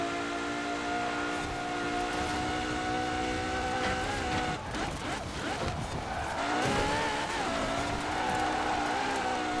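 A car in Forza Horizon 4 skids under a handbrake turn, its tires squealing in a long whine over the steady engine drone, with the screech shifting and rising midway.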